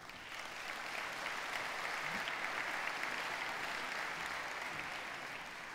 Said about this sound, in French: je passe illico presto la parole à Madame la secrétaire générale Muriel Fabre, sous vos acclamations